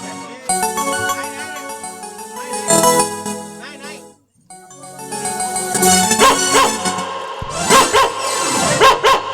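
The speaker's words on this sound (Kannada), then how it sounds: "ಯಾವ್ದೋ ಹುಚ್ಚು ನಾಯಿ ನೋಡು" A dog barks in short bursts near the end, mixed with loud music and the noise of a live stage comedy play in Koppal district.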